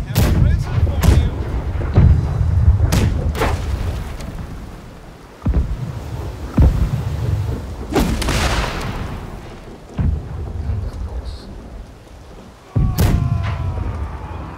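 Ship cannons boom repeatedly in a naval battle in the game Blackwake, loud irregular blasts with rumbling tails, some in quick succession, over constant game noise with a voice in the background.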